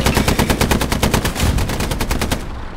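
A .50 calibre machine gun fires in a Sherman tank video game, one unbroken rapid stream of loud, evenly spaced shots for nearly three seconds.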